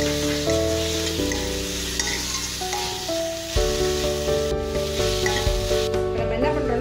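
Sliced onion and finely chopped tomato sauté in a pan for a coconut milk sodhi, a continuous close sizzle with occasional stirring scrapes, over faint steady background tones.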